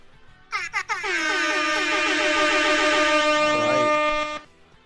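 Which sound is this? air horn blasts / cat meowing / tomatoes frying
air horn blasts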